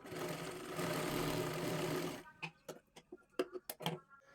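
Sewing machine stitching along a fold of blouse-piece fabric: a steady motor run for two seconds, then a series of sharp separate clicks and knocks as it stops, with faint talk.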